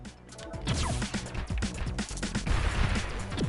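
Rapid, dense explosions and weapon fire from the shoot-'em-up Sky Force Reloaded crackle and thud continuously, loud and busy, layered over game music.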